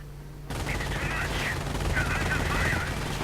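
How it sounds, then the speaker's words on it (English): MG42 machine guns and an anti-tank gun fire in a World War II video game, a sudden burst of rattling automatic fire and booms that carries on as a dense, continuous wall of combat noise. "MG42s and anti-tank gun opening up on the Stook."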